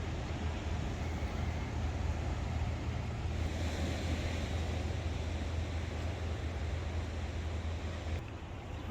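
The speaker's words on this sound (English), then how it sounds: "I'm just enjoying the Atlantic Ocean." Atlantic Ocean surf on the Maine coast near Cape Elizabeth lighthouses, a steady loud wash of breaking waves mixed with wind rumble, continuous throughout with no voices.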